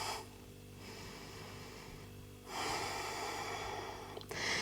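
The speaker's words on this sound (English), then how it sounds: "Excuse me, just sniffing here." Close, breathy sniffing through the nose: a short draw of air, a pause, then a longer, stronger intake, with nothing else audible.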